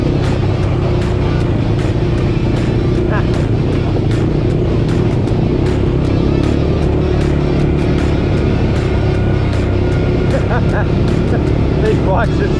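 Off-road bikes riding, engines droning loudly and continuously close by with wind buffeting, while people talk over the noise.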